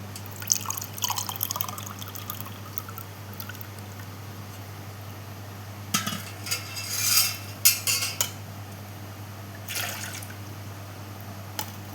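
Strained Marathi-style kadhi for an Alibag summer recipe, liquid dripping and trickling through a strainer, with soft utensil clinks and a few louder splashes near the middle, close and fairly quiet over a steady low hum.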